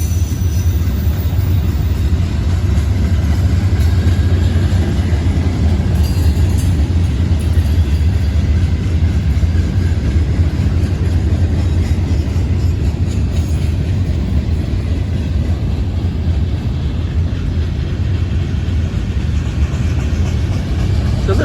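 Norfolk Southern freight train 13R rolls southbound on Main 1 near Lexington, North Carolina, a loud, continuous, close heavy rumble of diesel engines and rail cars passing steadily throughout.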